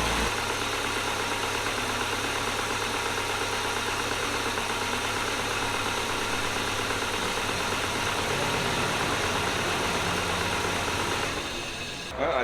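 A car engine idles steadily at about 1000 RPM after an injector swap, a constant mid-low hum without pauses that cuts off briefly at the end.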